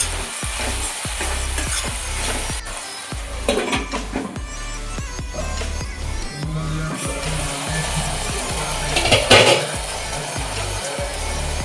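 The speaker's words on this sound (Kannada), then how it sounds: "ಇದು 1-2 ನಿಮಿಷ ಫ್ರೈ ಆಗಲಿ." Sliced mushrooms frying in a pan for a home-style pulao, with a steady loud sizzle broken by frequent scraping stirs of a spatula against the pan and a few sharper knocks.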